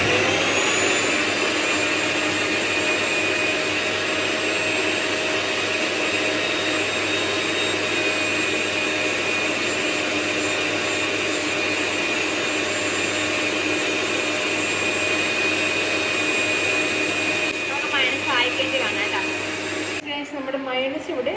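An electric mixer blends homemade mayonnaise as oil is added, a loud, steady whirring drone that holds for about twenty seconds before the pitch wavers and the motor eases off at the end.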